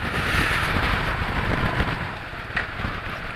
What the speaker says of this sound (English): Fuck, it's windy.